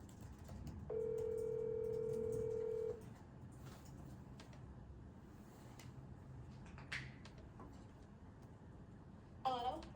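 A telephone tone sounds for about two seconds as a call is placed for a phone interview at a committee meeting, then only faint room noise and small clicks follow.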